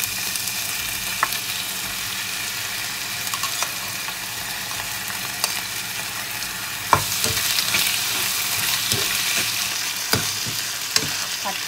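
Steady, loud sizzling of squid stir-fried with pounded chili and garlic in a pan, with occasional scrapes and taps from stirring throughout.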